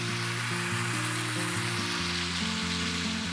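Food sizzles and crackles steadily in a hot pan, a dense close hiss with no voices.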